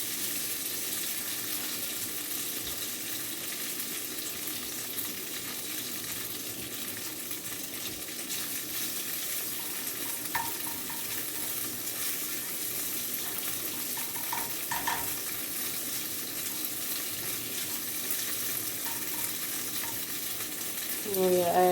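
Crumbled tofu scramble sizzles steadily in a frying pan while a utensil stirs it, with scraping clicks scattered throughout and a brief tap-water splash near the end; no one speaks.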